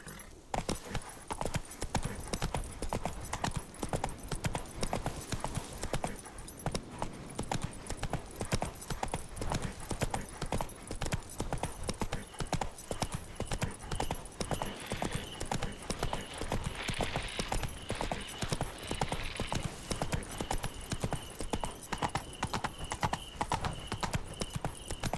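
Roach the horse gallops through The Witcher 3 with rapid, continuous hoofbeats thudding close and steady, a brief whinny-like tone rising partway through over faint ambient game sound.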